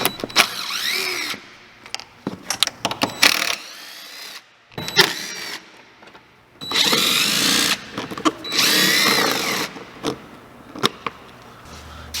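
A power tool backs small screws out of the bottom panel of a Ski-Doo 850 snowmobile, several loud whirring bursts of a second or two separated by brief pauses and clicks, close by.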